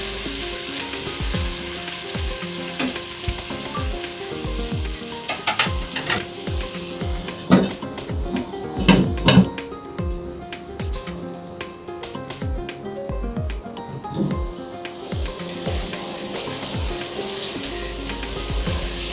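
Spice paste is stirred and fried in a pan for tuna fish bhuna. A continuous close sizzle runs throughout, with repeated scraping strokes of stirring and a few louder clatters midway.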